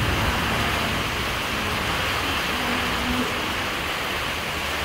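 Heavy rain pours down steadily during a tornado storm, a dense, loud, unbroken hiss with a low rumble underneath.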